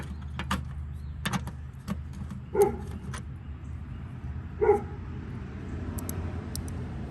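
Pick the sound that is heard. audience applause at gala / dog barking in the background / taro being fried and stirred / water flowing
dog barking in the background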